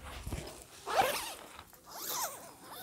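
A zipper on the door of a screened tarp shelter is drawn open in a couple of quick, close rasping pulls, soft fabric rustle between them.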